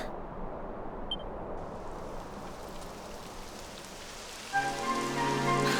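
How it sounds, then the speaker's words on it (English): Steady rain in the video game Dragon Quest XI patters down on a surface, a constant hiss throughout, joined near the end by a louder tonal hum. "It would have to go and start raining, wouldn't it?"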